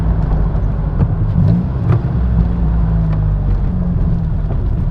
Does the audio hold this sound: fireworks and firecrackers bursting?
no